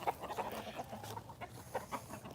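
Long-legged chickens clucking in a repeated series of short, mid-pitched calls, fairly close and steady over a faint outdoor background.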